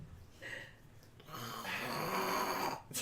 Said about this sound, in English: now everywhere you go, you get to hear snoring